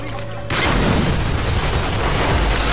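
A detonator-triggered explosion in Call of Duty: Black Ops on Xbox 360 erupts as a sudden, heavy boom that follows faint talk and then rumbles on loudly with debris and crackle.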